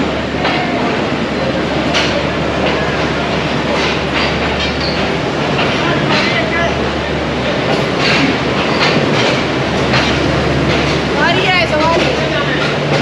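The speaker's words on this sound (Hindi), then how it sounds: "ट्रेन ने अपने सफ़र का आगाज़ कर दिया है। 8 नंबर प्लेटफॉर्म को छोड़ रही है" The 148 Down Mianwali Express pulls out of platform 8, with steady loud rumble and clickety-clack of the carriages rolling close by and a brief wheel squeal.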